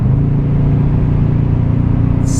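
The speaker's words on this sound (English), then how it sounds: "a dual-tipped, chrome-tipped exhaust on the back of this truck that when you put the pedal to the metal just sounds" Deep growling exhaust from a 2016 Toyota Tundra TRD Pro pickup with dual chrome-tipped pipes, rumbling loudly and close as the truck accelerates, no voices present.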